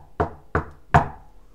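Three firm knocks land on a wooden door, evenly spaced and close, each a single hollow thud that dies away quickly, with nothing else heard.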